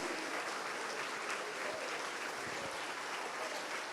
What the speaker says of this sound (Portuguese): Fica de pé e aplauda bem forte o Senhor.